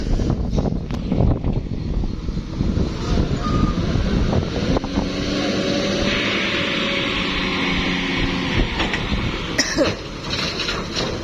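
A dump truck delivering fill soil backs up with repeated reversing beeps over its engine rumble, with coughing and air-brake hisses nearby and a loud, close presence throughout.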